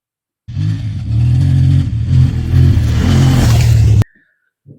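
The engine of a 2026 Moto Morini Alltrhike 450 motorcycle runs close and loud for about three and a half seconds, a deep rumbling idle that rises into a few revs before cutting off abruptly.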